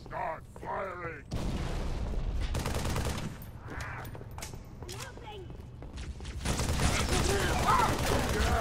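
Gunfire from the Halo 3 video game: dense, sustained volleys of rapid shots and heavy thuds rattle loudly close by, with voices speaking in between bursts.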